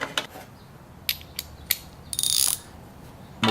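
Ratcheting clicks and brief mechanical bursts as M6 button head screws with wavy washers are tightened down on an air filter adapter, several short separate clicks followed by a longer ratchet run, close and fairly quiet.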